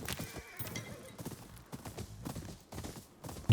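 Horse hooves clip-clop steadily and close by in the video game Ghost of Yōtei, a quick uneven run of hoof strikes with a faint whinny in the background.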